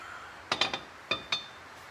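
A metal tow ball and bar are pulled from a vehicle's hitch socket, giving a handful of sharp, quiet metallic clinks in two short bursts against a near-silent background.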